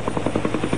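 A helicopter's rotor thumps in a fast, steady rhythm, loud and close, with a constant engine whine underneath, as freed hostages are brought down from it.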